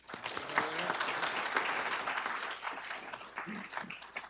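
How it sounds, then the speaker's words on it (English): An audience gives a round of applause at a city's State of the City event, a full burst of many hands clapping that swells quickly and carries on steadily for several seconds. "So I want to give them a round of applause as well"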